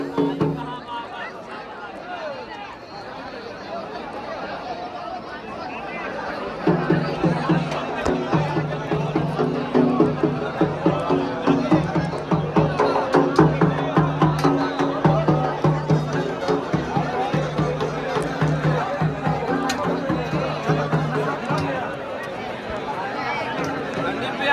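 Dense crowd of pilgrims at the Baba Baidyanath temple in Deoghar, Jharkhand, a steady babble of many voices and shuffling that swells louder midway and stays busy, with a nearby speaker's voice over it.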